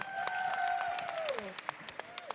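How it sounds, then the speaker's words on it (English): Scattered audience applause for a panel speaker, fairly faint and thinning into a few individual claps toward the end, with a voice speaking over the start. "Everyone, please clap it up for Ed Reynolds"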